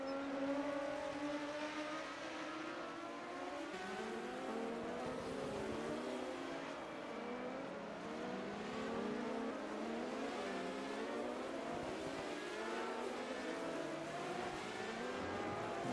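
BMW M1 Procar race cars battle at the 1980 Monaco Grand Prix, several engines revving hard, their pitch climbing and dropping through gear changes in overlapping waves that hold steady throughout.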